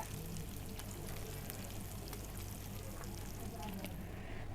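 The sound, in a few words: tengra fish frying in oil in a pan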